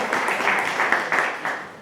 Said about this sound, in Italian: io invierei un caloroso applauso